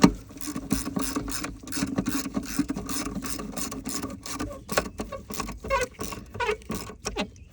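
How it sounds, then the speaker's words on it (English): A long ratchet wrench and socket tighten the battery bracket bolt on a Mercedes ML, a close, rapid series of mechanical clicks in several bursts with short pauses between strokes. "So now we'll go in here with my long wrench and socket, long bracket and socket. Tighten that down."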